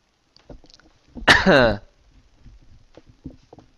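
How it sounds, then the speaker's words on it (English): A short burst of harsh coughing, loud and close, set between quiet stretches of low talk. "excuse me, I'm coughing a lot"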